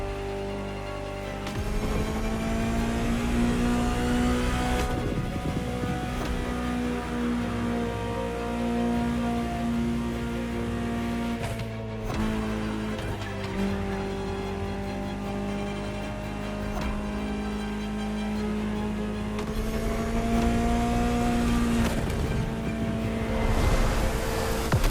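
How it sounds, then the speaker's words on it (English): A Ferrari supercar engine in the racing game The Crew Motorfest drones with a steady tonal roar that rises and falls through several revs and gear changes over about 25 seconds, with no talk. "Just listen to the car you're driving."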